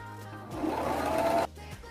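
A sewing machine runs in one steady burst of about a second while stitching fabric for a romper jumpsuit, a close, even mechanical whir starting and stopping abruptly, with no talking.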